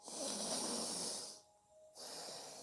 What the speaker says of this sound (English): Take big, deep inhales and exhales.